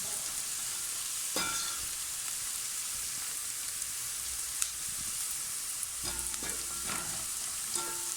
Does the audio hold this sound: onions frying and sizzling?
yes